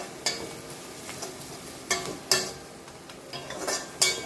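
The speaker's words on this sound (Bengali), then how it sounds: "এবার এটাকে ভালো করে নেড়ে দেবো" A utensil stirs chili powder into a spice paste in a pan, giving soft scraping with a few sharp metallic clinks at irregular intervals. The sounds are close and moderately loud, with no voices.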